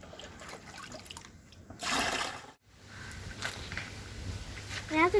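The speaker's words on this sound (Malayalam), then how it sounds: "നമുക്ക് ആദ്യം കുറച്ച് വെള്ളം ഇതിനകത്ത് എടുക്കാം." Water is scooped from a small fish pond during cleaning, giving a brief splashy slosh in the middle and light trickling around it, with talking in the background.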